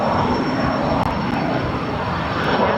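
A small but powerful aircraft taking off from Barcelona airport gives a constant, loud engine roar with a thin high whine, holding steady throughout with only a couple of brief clicks.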